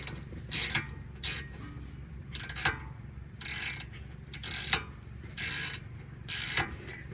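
Ratchet tie-down straps are cranked tight in seven short bursts of rapid metallic clicking, with brief pauses between them, close to the microphone.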